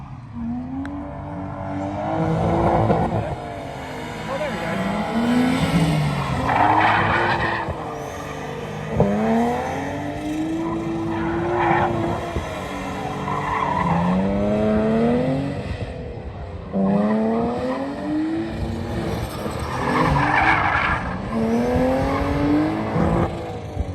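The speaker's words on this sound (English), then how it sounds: "Yes, that's right, it is a Datsun pickup truck." Datsun pickup truck lapping a race track, engine revving up and down continuously with repeated tire squeals through corners, loud and close for the whole stretch.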